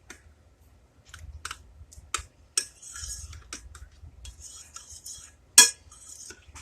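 Utensil stirring a broth mixture in a dish, with light scattered clinks and scrapes against the bowl, close and fairly quiet, plus one sharper knock near the end.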